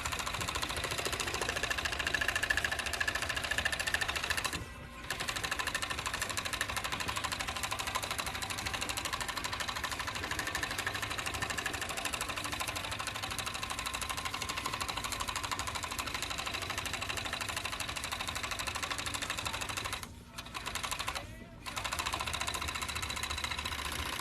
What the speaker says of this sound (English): It is nice, the sound of the serger.